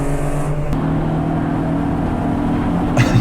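Onboard engine note of a racing car in a Superberline sprint race at Dijon, a steady loud drone with sustained harmonics, shifting pitch briefly mid-clip, close and continuous with no talk.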